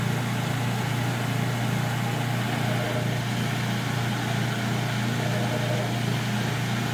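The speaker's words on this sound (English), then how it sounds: "The pump is going to start cavitating, which it is now." Drain pump of a Kenmore 80 Series washing machine cavitating, a steady loud mechanical hum and rushing churn with a low drone, continuous and close with no talk.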